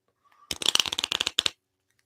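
Tarot cards get a quick, light riffle shuffle, a dense burst of crisp close flutters lasting about a second in otherwise quiet surroundings.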